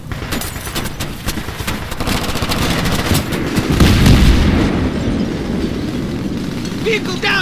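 Battlefield 3 ambush combat in the trees: dense rapid gunfire with heavy booming explosions rolls on continuously and loudly, with shouted voices mixed in.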